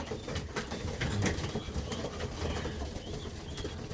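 Young and old pigeons flutter their wings and coo softly nearby. The flapping comes in brief bursts over a low, steady murmur of birds.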